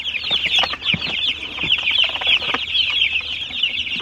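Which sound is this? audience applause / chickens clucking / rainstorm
chickens clucking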